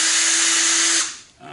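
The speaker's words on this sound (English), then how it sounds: "What we're going to do is get our drill ready" An electric drill runs with a steady high-pitched whine and a constant tone for about a second, then winds down and stops, followed by quiet room noise.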